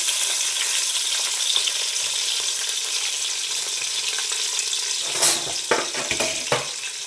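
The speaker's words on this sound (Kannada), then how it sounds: "ಆಯಿಲ್ ಬಿಸಿ ಆಗಿದೆ. ಈಗ ಹಸಿಮೆಣ್ಸಿನ್ಕಾಯಿ ಆ್ಯಡ್ ಮಾಡ್ತಾ ಇದ್ದೀನಿ." Green chillies go into hot oil in a pan while biryani is being prepared, setting off a steady, bright sizzle throughout, with a few sharp crackles and stirring knocks near the end.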